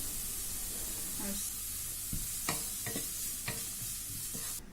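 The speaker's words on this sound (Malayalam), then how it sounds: "അപ്പോൾ നമുക്ക് ഒരു മീഡിയം സൈസ് സവാള ചെറുതായിട്ട് അരിഞ്ഞത് ഇട്ട് കൊടുക്കാം." Finely chopped medium onion and green chilies sautéing with salt in a pan, a constant soft sizzle punctuated by a few sharp stirring scrapes, close and fairly quiet, with no one talking.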